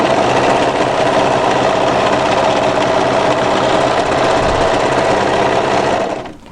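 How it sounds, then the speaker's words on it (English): An overlocker sewing machine stitches fabric in one continuous loud, rapid whirring run that stops abruptly at the end, with no talking. "Now we want to overlock straight through until we meet up with our previous overlocking."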